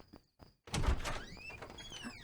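A door opens with a solid thunk and a short rattle after a couple of faint taps, followed by a lingering creak and some scraping, heard alone without speech.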